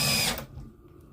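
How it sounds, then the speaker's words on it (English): A power drill drilling holes, a loud close whirring burst that stops abruptly, leaving a quiet room tone. "As I'm drilling all these holes,"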